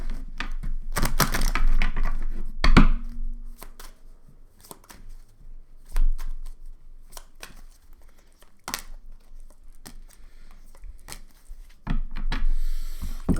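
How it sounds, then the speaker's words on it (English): A deck of cards is riffled and shuffled up close in a quiet room, with a dense flurry of papery flicks early on, then sparse taps and slides and another burst near the end. "One more shuffle."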